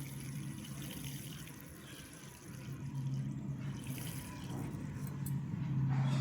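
Water poured over ration rice during washing, a steady close running and splashing flow that swells slightly louder toward the end, with no talk.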